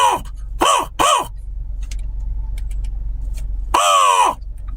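Crows give loud, harsh caws close by, three quick calls in a row followed after a pause by one longer drawn-out call, over a low steady background rumble.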